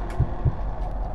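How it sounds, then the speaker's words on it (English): Two low, thumping heartbeat pulses about a quarter second apart from the heartbeat minigame sequence in Roblox Doors, floor 2, over a dull ambient hum with no talking. "I'm stuck in the heartbeat sequence."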